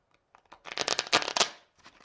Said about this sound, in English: Another common method that you'll find is what's referred to as a rifle shuffle.